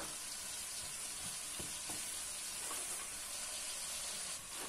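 Onion frying in a pot beside ribs for a rib stew, a constant close hiss and sizzle with a few faint scrapes of stirring.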